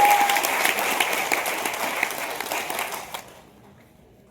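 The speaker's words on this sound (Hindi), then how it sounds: "रवि शर्मा जी के लिए तालियां बजा दी आप लोगों ने।" Audience applause at a seminar hall, a dense, sustained clapping from a large crowd that carries for about three seconds and then fades out abruptly into near silence.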